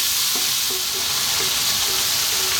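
Tomatoes sizzle steadily in a frying pan as they cook down for a fish curry, a dense, continuous close hiss with faint clinks of stirring now and then.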